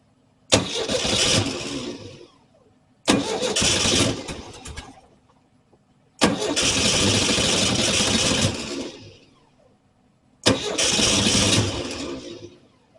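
The engine of a 1968 VW Type 3 with its original fuel injection cranks four times without catching. Each burst of loud, rapid starter churning lasts a second to a few seconds and is separated by short silences.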